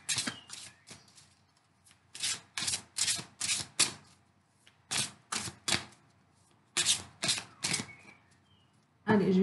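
Tarot cards being cut and shuffled, a string of crisp papery riffles and slaps coming in short bursts with brief pauses between them, close and fairly loud, then a sharper snap at the end.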